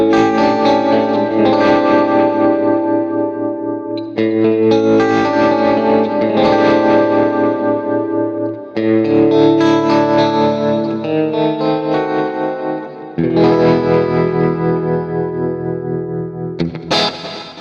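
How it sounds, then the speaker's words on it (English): Atmospheric tremolo-pulsed electric guitar rhythm tone from an Axe-Fx II, chords throbbing in steady rapid pulses and washed in reverb and delay, played loud in four strummed phrases with ringing tails and no talking. "For scene 5, I'm going to make a tremoloed sound that has the same reverb and delay characteristics as the lead."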